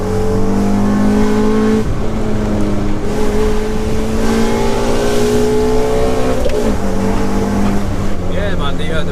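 A BMW 116i sleeper build has its engine revved hard, with a loud, sustained, steady engine tone that climbs and holds near the limiter for the whole stretch, heard from close up.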